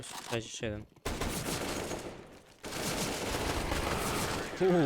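Gunfire from a scout sniper rifle in the Counter-Strike: Global Offensive video game, heard as sharp loud shots and dense bursts of battle noise that break off briefly and then resume.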